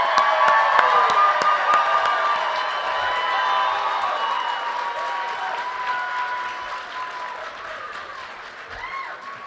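A commencement crowd applauds and cheers Doctor of Pharmacy graduates, loud sustained clapping mixed with whoops and shouts that gradually taper off, a few scattered cheers rising near the end.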